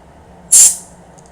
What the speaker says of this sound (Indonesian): Kita semprot dulu aja juga.